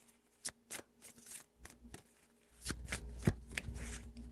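A deck of tarot cards is shuffled by hand in quiet, close bursts of riffling and tapping, a series of soft irregular flutters growing slightly busier toward the end, with no talk.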